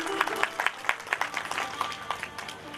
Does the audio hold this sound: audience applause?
yes